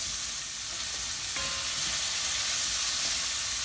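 Food sizzles steadily in a pan while yellow rice is being cooked, a continuous close frying hiss with a brief tonal clink partway through and no talking.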